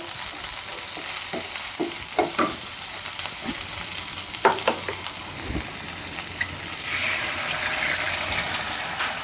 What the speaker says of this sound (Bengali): ভাত ভেজে দিচ্ছি ডিম দিয়ে